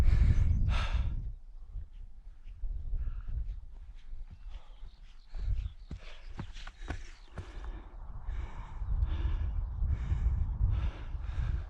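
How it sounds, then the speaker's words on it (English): Loud, ragged breathing from a hiker climbing uphill in the Pentland Hills toward Allermuir Hill above Edinburgh, with repeated heavy gasps and sighing exhales close to the mic over outdoor wind rumble. "I am breathing out my arse."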